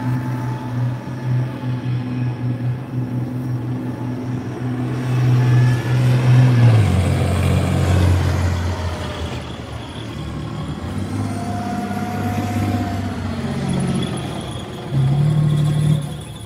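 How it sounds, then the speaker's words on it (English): A Challenger armoured repair and recovery vehicle, built on a Challenger 1 hull with Challenger 2 running gear, drives past at a British Army tank event, its heavy engine droning loudly and surging midway with steady tracked rumble throughout. "This is a Challenger armoured repair and recovery vehicle."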